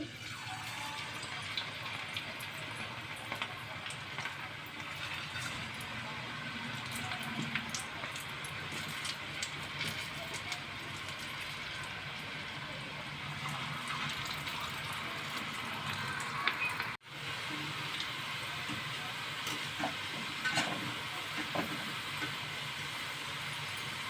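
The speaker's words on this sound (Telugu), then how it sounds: "ఈ నొరగంతా తగ్గే వరకు ఫ్రై చేసుకోవాలండి తిప్పుతూ కలుపుతూ ఫ్రై చేసుకోవాలి" Chana dal chegodi dough rings fry in hot oil on low flame while being stirred and turned, a continuous bubbling hiss with small irregular crackles throughout and a brief dip partway.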